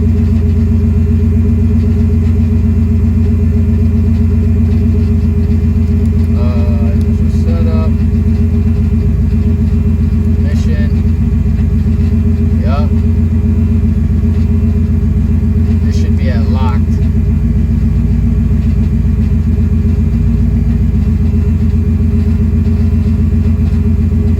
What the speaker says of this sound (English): I'll go to Pro Tuning, set the idle. We got the idle at warm